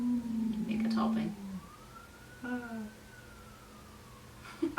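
An ambulance siren wails faintly in the distance as it passes, its rising and falling tone sweeping slowly while a dog howls along nearby and voices talk briefly.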